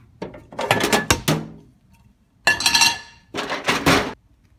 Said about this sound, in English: So now I need to get the frying pan out.